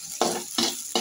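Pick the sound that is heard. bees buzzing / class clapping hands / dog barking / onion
onion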